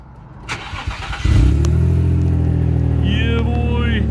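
An Infiniti G35 engine cranks and catches, then settles into a loud, steady running note close to the microphone. Faint rustling comes before the start.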